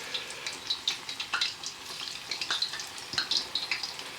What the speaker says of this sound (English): Don't put too many into the oil, probably about 6 at a time